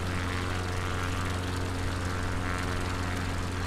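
Propeller aircraft engine throttled down to low power in Microsoft Flight Simulator 2020 on a Patagonia bush flight, a steady, even drone with a low hum and broad airy roar, alone without talk.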